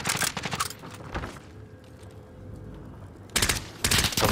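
Bursts of automatic gunfire in the Call of Duty: Warzone Caldera Resurgence game on PS5, loud rapid volleys at the start and again near the end with a quieter lull between, no talking.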